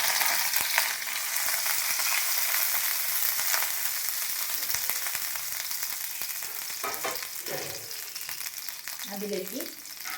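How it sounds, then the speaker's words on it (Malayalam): Chopped garlic frying in hot sunflower oil, a dense, steady crackling sizzle close up with brief stirring scrapes and clinks near the end. "സൺഫ്ലവർ ഓയിൽ ഒഴിച്ച് അത് ചൂടാവുമ്പോൾ നമുക്ക് 4-5 വെളുത്തുള്ളി അരിഞ്ഞത് ചേർത്ത് കൊടുക്കാം"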